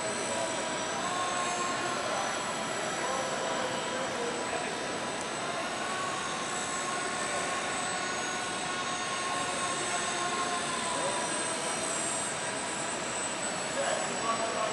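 A Blade mCP X RC helicopter flies and lands, its small motor and rotor giving a constant high, buzzing whine that stays level and close throughout, with faint talking underneath.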